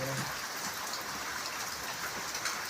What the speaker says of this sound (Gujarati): વરસાદ ચાલુ થઈ ગયો કાલે વરસાદ ઓછો હતો આજ વધી ગયો